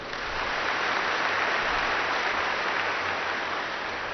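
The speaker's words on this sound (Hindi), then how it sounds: "ताली बजाओ अपने लिए।" Steady applause from a crowd, dense and even throughout with no voices standing out.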